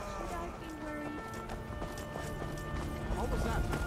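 Horses gallop in The Elder Scrolls V: Skyrim with a quick, rhythmic clip-clop of hooves. Steady game ambience runs underneath, and a person talks over it the whole time.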